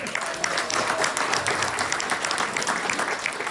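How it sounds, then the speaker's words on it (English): A member summit audience applauds steadily, with many hands clapping close and loud in a dense, even stream throughout. "So give them another round of applause."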